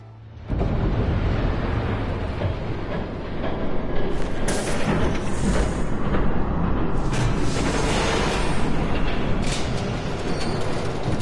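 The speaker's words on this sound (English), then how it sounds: "There's a train coming." A train passes in the Batman Telltale Series video game, producing a loud, sustained rumbling roar that swells in and holds steady throughout.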